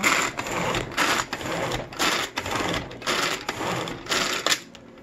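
A Power Chef pull-cord chopper is yanked repeatedly to mix salsa, producing a run of rapid whirring bursts with brief pauses between pulls, close and fairly loud with no speech.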